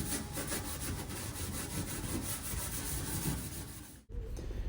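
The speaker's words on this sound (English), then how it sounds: "Just lightly scuffing it all with a green Scotch-Brite." A green Scotch-Brite pad lightly scuffs the metal floor pan of a Volkswagen Beetle in rapid, even back-and-forth strokes, close and continuous, then stops abruptly near the end.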